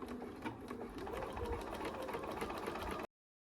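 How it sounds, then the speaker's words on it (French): A sewing machine runs continuously, stitching the side seams of an elastic-waist skirt with a fast, even mechanical chatter for about three seconds before stopping abruptly. "On a cousu les deux coutures côté de la jupe"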